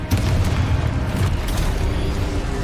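Confringo fire spell blasts in the video game Hogwarts Legacy, dense rumbling booms and bursts layered with game combat effects, loud and continuous.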